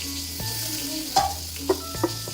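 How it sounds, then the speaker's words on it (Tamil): Tamarind water poured into a pan of fish curry paste, giving a steady sizzle and fry hiss with a few brief louder splashes and stirring knocks, close and alone. "அதுக்கப்புறம் இதில் புளி தண்ணி ஊற்றிக்கிறேன்."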